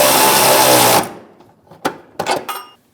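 A ratchet drives a deep socket on a rear upper control arm bolt of a Chevrolet Malibu: a loud, dense whirring burst for about a second, then a few short metallic clicks and clanks.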